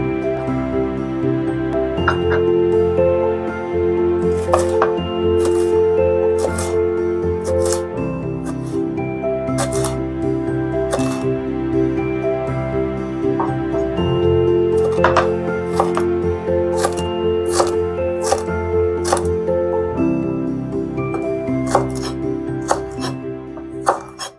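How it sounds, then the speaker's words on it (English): A knife cuts a jalapeno and scrapes out its seeds on a board, sharp irregular taps and clicks over a steady background hum, close and fairly loud. "I'm removing the seeds to the jalapeno."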